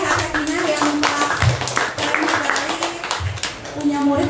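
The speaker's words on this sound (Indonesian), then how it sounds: "Tepuk tangan untuk SMP dan Madrasah Aliyah As-Sakinah" Audience at a school education seminar claps, with steady applause running under a woman's enthusiastic speech throughout.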